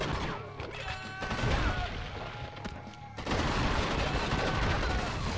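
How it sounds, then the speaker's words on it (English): Rapid submachine gun bursts mixed with heavy revolver shots in a crime shooter video game, a dense, loud barrage of overlapping gunfire with crashes and impacts, thickening into near-continuous noise in the final seconds. "we are currently shooting a submachine gun and the revolver at the same time"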